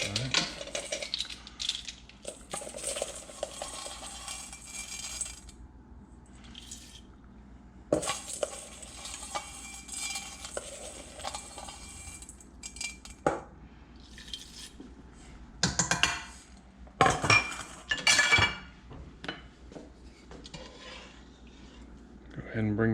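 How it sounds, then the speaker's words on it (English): Spoon stirring a pickling mixture for deer heart in a container, with clinking, scraping and rattling in uneven bursts and quieter gaps between them. "Stir it up"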